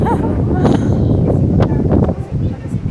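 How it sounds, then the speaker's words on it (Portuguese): Strong wind gusts buffet the microphone at the Eiffel Tower, a steady loud rumble with rustling bursts, while a person talks over it. "Ventando pra caramba também"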